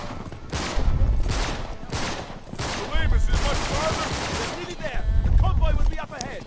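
Gunfire in the video game Uncharted 3, bursts of rapid shots and booming impacts in several loud clusters, with someone talking over the fighting.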